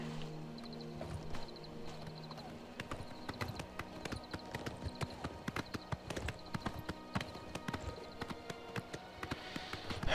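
A horse's hooves clip-clop at a steady gallop in the video game Oblivion Remastered, the rhythmic thuds fairly close and continuous under a low ambient game backdrop.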